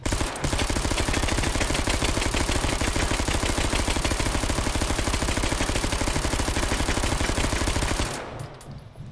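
Sustained full-auto submachine gun fire in the Hot Dogs, Horseshoes & Hand Grenades VR game, a loud, rapid, unbroken stream of shots lasting several seconds before cutting off abruptly.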